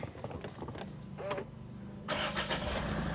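A 2014 Range Rover Evoque 2.2 diesel starting: a brief starter crank, then the engine catches at once and settles into a steady, close idle with no talking.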